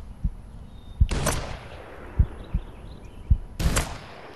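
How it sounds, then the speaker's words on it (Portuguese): Rifle shots in the PS4 hunting game Hunting Simulator 2 while hunting cottontail rabbits: two sharp, loud reports with bright ringing tails stand out, separated by a couple of seconds, over faint background thumps. "Vou lá então atirar aqui."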